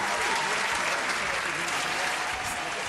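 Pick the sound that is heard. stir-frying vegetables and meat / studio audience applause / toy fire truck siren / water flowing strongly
studio audience applause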